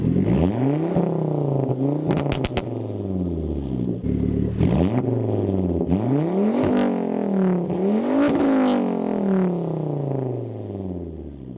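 A Volvo S60R's turbocharged five-cylinder engine revving repeatedly, each rise in pitch sweeping up and falling back in a series of loud, close blips with some clattering between, no talk.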